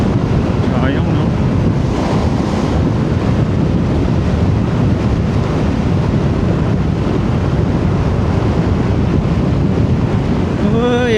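Ocean surf breaking along a seaside shore in North Luzon, heard as a steady, dense wash of waves mixed with heavy wind buffeting the microphone throughout, with no clear break in the roar.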